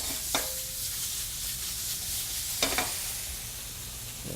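Pork in tomato sauce with a sprinkling of hot pepper warms in a pan with a soft, steady sizzle. Two brief utensil clinks break through, close by.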